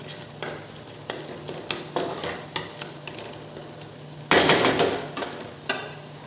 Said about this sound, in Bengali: এদিকে মশলাটাও বেশ ভালোভাবেই কষে আসছে